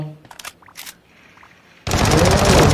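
In the video game Sausage Man, faint clicks and small sounds give way to a loud, sustained burst of rapid gunfire that carries through to the end.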